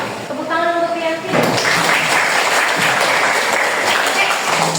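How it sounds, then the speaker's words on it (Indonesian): Students in a classroom give a classmate a round of applause, a dense, loud clapping that starts abruptly after a brief spoken voice and continues steadily to the end. "Tepuk tangan untuk Rianti."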